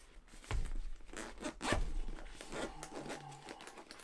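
A small zippered bag from a DJI Mic 2 box is unzipped close up, a quick rasping zip followed by soft rustling and handling noises.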